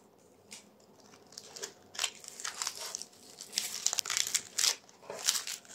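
A plastic gift bag crinkles and rustles up close as it is handled and tied, in a series of irregular crackling bursts that grow busier toward the end, with no talking.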